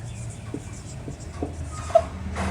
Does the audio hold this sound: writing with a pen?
yes